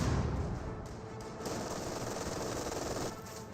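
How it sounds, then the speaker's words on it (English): Rapid .50 cal machine gun fire in Company of Heroes 2 rattles in a continuous, dense burst with overlapping shots, loud and steady across the whole stretch with no talk over it. "There's also the 50 cal hitting them."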